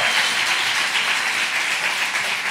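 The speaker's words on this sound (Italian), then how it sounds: "Fateci sentire un grande applauso, ragazzi" Podcast live audience applauds steadily, a dense continuous wash of many hands clapping at even loudness throughout, with no voices over it.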